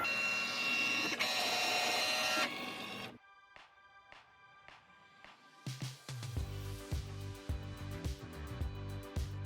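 A Cricut Maker cuts vinyl, first with a dense mechanical whir, then quiet ticks and clicks as the carriage shifts, followed by rapid rhythmic stepper-motor pulses and buzzing as the blade tracks across the material, close and clear.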